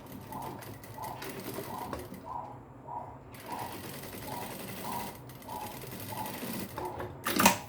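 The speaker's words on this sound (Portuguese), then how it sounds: "Então eu venho agora aqui com a costurazinha de 1 centímetro" A sewing machine stitches a 1 cm side seam on a small backpack, whirring in rapid mechanical bursts with brief pauses, close and moderately loud, ending in a louder clatter.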